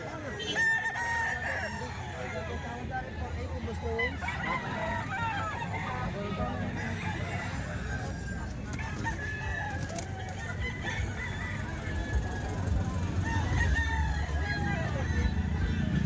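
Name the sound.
rooster crowing, Golden Boy line EEJ gamefowl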